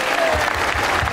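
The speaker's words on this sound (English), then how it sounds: "Ladies and gentlemen, boys and girls, at the count of three, to thunderous applause." Audience applause at a family comedy ventriloquist show, loud and close, a brisk burst of clapping filling the whole short moment.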